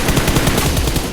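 Rapid automatic gunfire from the PUBG Mobile battle royale game, a dense sustained stream of shots filling the whole stretch, loud and close, ending in a sharper burst.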